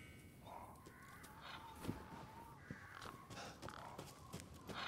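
Crows caw in the video game Resident Evil Village, a series of harsh calls that repeat at irregular intervals over a quiet outdoor ambience, moderately near but low in level.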